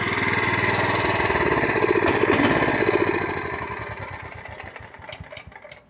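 A Husqvarna weed eater engine runs loud and close at a steady buzzing idle, then winds down and sputters unevenly toward the end.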